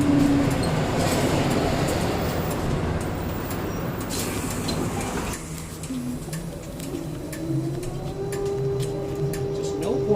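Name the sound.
trolley bus passing insulator in overhead wire switch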